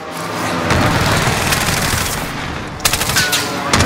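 Rapid assault rifle fire in Call of Duty: Modern Warfare, loud sustained bursts of automatic shots that pause briefly, then return as sharper, closer cracks near the end.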